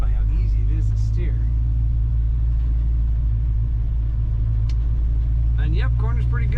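A 1956 Ford F100 Shortbox Stepside truck engine rumbles steadily while driving, a loud low drone throughout, with someone talking intermittently over it inside the cab.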